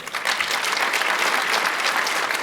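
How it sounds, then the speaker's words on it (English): An audience breaks into applause, a dense, even wash of many hands clapping that holds steady and loud throughout the short burst. "clap for that"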